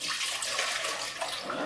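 Water runs steadily from a kitchen tap into a pot for dandelion syrup, a continuous close hiss with no talk.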